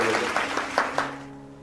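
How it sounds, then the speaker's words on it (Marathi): Brief burst of applause from a small audience greeting Govind Shende, a Vishva Hindu Parishad provincial official, at the start of an interview; scattered claps fade out within under two seconds, no talk over it. "त्यांच्यासाठी जोरदार टाळ्या वाजवल्या"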